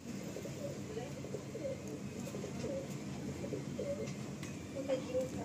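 Madras pigeons coo in soft, repeated throaty phrases at close range, layered over a steady background hum, with no talk.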